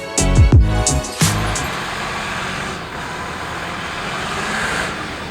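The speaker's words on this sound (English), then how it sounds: "that was a stuck tour bus being pushed by a massive group of Amish folk" A stuck tour bus being pushed by a large group of Amish people: a loud, deep engine roar with rough bursts at the start, then fading into steady road rumble and distant traffic noise.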